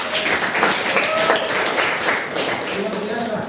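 Classroom applause from a group of students during an Indonesian school lesson: a dense burst of many hands clapping, sustained for a few seconds with scattered voices mixed in underneath.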